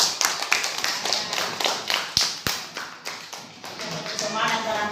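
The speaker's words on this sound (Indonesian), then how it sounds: "beri tepuk tangan dulu untuk kita semua" A small group claps hands together in a loose rhythm during a lesson, sharp repeated claps close by with a couple of heavier thumps, and a voice briefly underneath.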